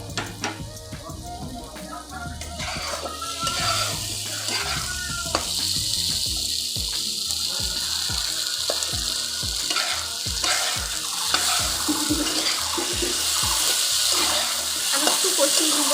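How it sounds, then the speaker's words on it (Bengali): Pointed gourd and paneer curry sizzles steadily in a pan as a spatula scrapes and stirs in repeated strokes, loud and close throughout. "আমি একটু কষিয়ে নিব আমরা।"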